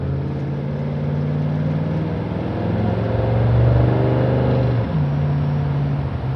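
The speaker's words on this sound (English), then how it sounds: "So, running up through the gears here a little, give it a little bit of gas." A 1967 Dodge Coronet R/T engine pulls up through the gears under light throttle, its steady mid-pitched rumble rising, dipping at a shift near the end, then climbing again, heard from close by inside the car.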